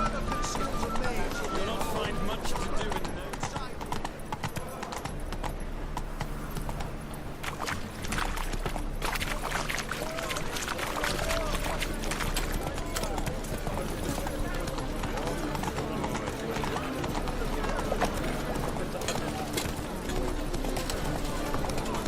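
Roach the horse gallops steadily in The Witcher 3 video game, a continuous rhythmic clip-clop of hooves under a dense layer of game music and ambience, with someone talking over it.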